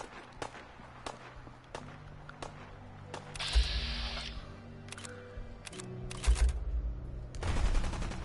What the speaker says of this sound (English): Gunshots start ringing across the plains